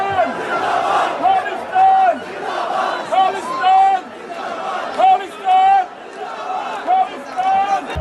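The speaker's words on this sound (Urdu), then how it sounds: "نیچے موجود پاکستانی تماشائیوں نے بھی سکھ کے ساتھ بھرپور حصہ لیا اور سکھ کے نعروں کا پرجوش جواب دیا۔" Cricket spectators at a Pakistan versus Afghanistan match chant Pakistan Zindabad slogans, loud rhythmic crowd bursts answering a leading voice in repeated call-and-response waves, surrounded by constant crowd chatter.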